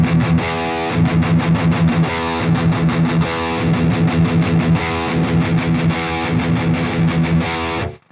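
High-gain electric guitar through an amp simulator with a vintage cabinet, chugging a repeated palm-muted rhythm pattern with sharp stops, loud and solo, ending on an abrupt cut.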